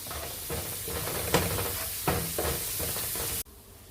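Ginger garlic paste and curry leaves sizzling in a pan for pepper chicken, a close, steady crackling fry with a few stirring scrapes, cutting off abruptly near the end.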